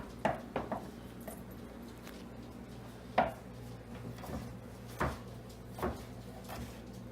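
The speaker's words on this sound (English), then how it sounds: "now we just want to coarsely chop the cloves from 1 garlic" A knife coarsely chops the cloves of one garlic head on a board: a handful of scattered, fairly quiet thuds spaced irregularly over a low background hum.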